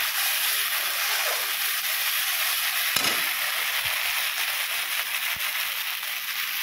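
Cumin and green chilli sizzle in a pan of cooked-down masala for a Bengali pabda fish curry, a steady broadband hiss that holds evenly throughout, close and moderately loud, with a couple of faint clicks.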